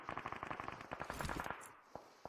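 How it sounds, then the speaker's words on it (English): Faint, far-off automatic gunfire in the video game PUBG Mobile rattles in rapid bursts, then trails off into a couple of isolated single shots. "A lot of gunshots in the distance, though."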